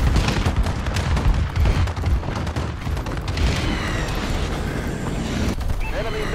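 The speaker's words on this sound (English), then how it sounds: "Friendly bombing run incoming." Friendly bombing run in Call of Duty: Advanced Warfare multiplayer, a dense barrage of deep booming explosions and rumbling blasts rolling continuously and loudly, with scattered gunfire crackle mixed in.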